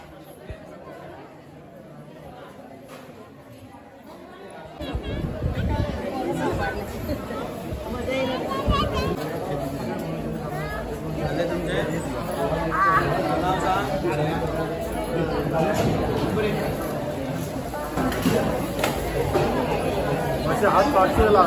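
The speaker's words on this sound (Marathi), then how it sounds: "तुम्ही इकडे पाहू शकता किती गर्दी आहे ती. आणि आज शेवटचा दिवस आहे सो त्याच्यामुळे खूपच गर्दी आहे आज" Dense crowd bustle at a packed village fair (jatra) on its final day: a continuous babble of many voices and general commotion swells in after a quieter opening and stays loud and steady throughout.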